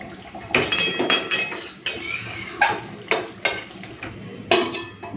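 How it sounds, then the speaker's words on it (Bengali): A metal lid clatters onto a kadai of katla fish malaikari, with several sharp clanks and scrapes of cookware spaced across the moment, close and fairly loud. "ঢাকা দিয়ে দিলাম, 5 মিনিট মতো একটুখানি রেস্টে রাখি।"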